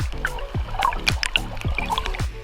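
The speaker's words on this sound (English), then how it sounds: "a brand new river that has formed from all the rain" Rainwater flows as a newly formed stream across a beach at Shaw Island in the Whitsundays, a close burbling trickle with a low rhythmic thumping running beneath it.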